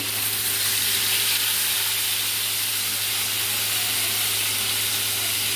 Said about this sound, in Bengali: এবং দ্বিতীয় মাছটাও আমি তেলে ছেড়ে দিচ্ছি